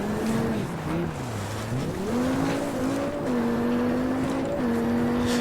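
An Audi Quattro rally car in Richard Burns Rally revs hard through the gears on a rallysprint stage, its engine note rising and dropping with each shift under loud, continuous road and gravel noise.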